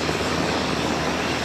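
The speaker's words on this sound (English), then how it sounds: "CAL FIRE S-70 Hawk helicopters on the move just as the sun sets." CAL FIRE S-70 Hawk helicopters flying at sunset, a steady, loud broadband rotor and engine roar with no pauses or voices.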